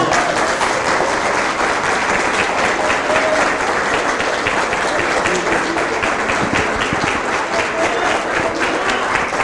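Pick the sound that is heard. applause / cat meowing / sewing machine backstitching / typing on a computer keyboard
applause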